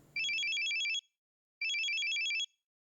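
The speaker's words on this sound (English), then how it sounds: "And then there was another call." Mobile phone ringtone from the Steins;Gate 0 video game, two identical bursts of rapid electronic trilling separated by a short silence, clear and isolated.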